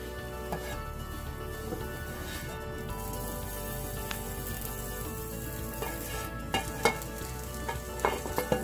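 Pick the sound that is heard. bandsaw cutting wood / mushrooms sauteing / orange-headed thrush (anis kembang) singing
mushrooms sauteing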